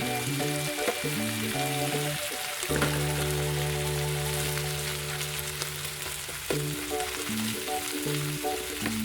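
Shrimp cooks in butter and sugar in a pan, giving a steady, close sizzle that runs unbroken for the whole stretch over a low tonal background.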